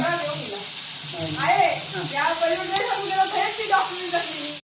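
Malvani-style surmai (kingfish) and prawns fry in hot oil with a steady, close sizzle and occasional spattering pops, while a person talks over the cooking throughout.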